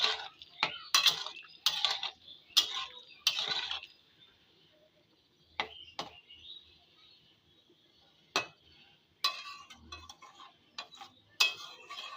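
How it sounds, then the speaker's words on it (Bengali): A spoon scraping and clinking against a pot while cauliflower curry is stirred, in bursts of sharp metallic taps separated by quiet pauses, close and fairly faint, with no talk. "এবার একবার নেড়ে দেবো"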